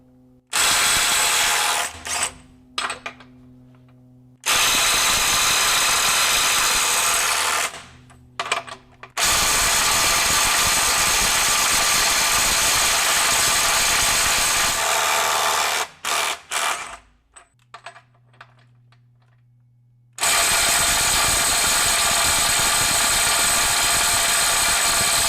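A DeWalt DCF845 20V XR brushless impact driver runs in reverse at speed 3 in several loud bursts, hammering steadily for seconds at a time with short silent pauses between runs.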